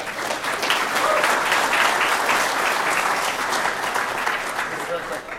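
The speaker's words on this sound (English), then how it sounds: "So really looking forward to this. Give him a hand." A conference crowd applauds a speaker introduced for a malware analysis talk, a broad, even wash of clapping that swells and then tapers slightly, with voices mixed in underneath.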